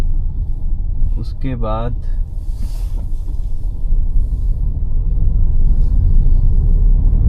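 An Ola/Uber taxi car drives along a road in Bhopal, with a steady low engine and road rumble throughout. Someone speaks briefly over it and a short tonal beep sounds early on.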